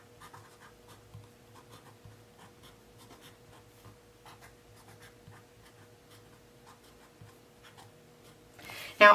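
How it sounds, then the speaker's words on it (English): A clean color dot marker writing in an A5 daily planner page: soft, faint scratchy strokes in short irregular bursts, with a louder rustle at the end. "We're going to use a clean color dot marker and I'm going to write down what he has going on."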